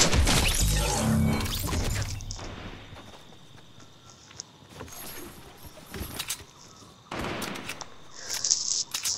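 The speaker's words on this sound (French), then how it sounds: "Pourquoi tu me tires dessus?" Gunfire in the video game Fortnite, with a dense burst of rapid shots up front, then scattered single cracks and impacts, and another burst of shots near the end, mixed with clattering game effects; no talking.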